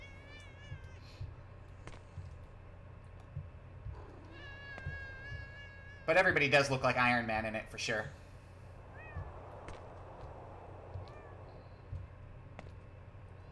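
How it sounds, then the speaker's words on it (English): Cats meow several times in a video game, the cries standing out briefly in the middle, while a person talks over steady game background sound. "I like the kitties. The kitties are a very nice touch."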